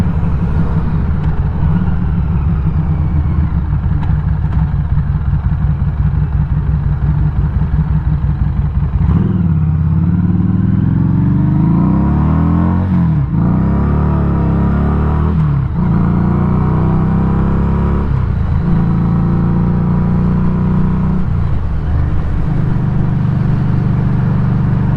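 Harley-Davidson motorcycle with a Revolution 500 engine riding along a road, a loud continuous engine drone with rising and falling revs and shifts throughout, heard close up with heavy wind rumble and no voices.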